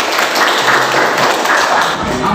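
Classroom applause for a student, a loud, dense burst of children clapping together that continues steadily, with a little chatter mixed in.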